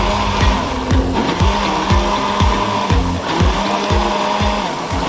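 An electric kitchen blender grinds shallots with a loud, steady whir, broken into repeated short pulses with sharp restarts, close and alone with no talk.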